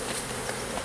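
Honey bees from a package being brushed off a frame onto queen cells produce a steady, dense buzzing hum, close and even throughout the brief moment.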